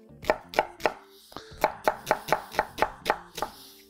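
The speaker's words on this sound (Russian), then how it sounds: "И начинаем нарезать туда лук и все остальные коренья." Steady knife chopping of onion on a cutting board, about a dozen crisp thuds in an even rhythm with a short pause partway through.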